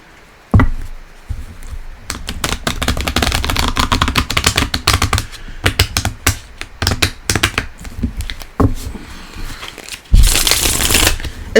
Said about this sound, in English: And then I can shuffle up the cards well.